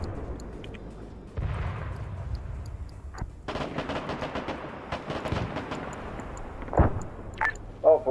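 Rocket fire in a war video game: a deep roaring launch rumble builds, then a dense stretch of rapid crackling gunfire and blasts, with later louder impacts near the end, all fairly close.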